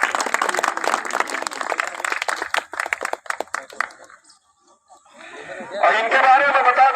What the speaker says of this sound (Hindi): एक जोरदार तालियां बजाई जाए